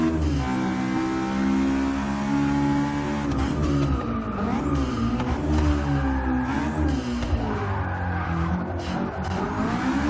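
Turbocharged Honda S2000 engine in Forza 6 revs hard and loud under throttle, a rich harmonic drone sweeping up and down through gear changes on track, with tire squeal and no talking.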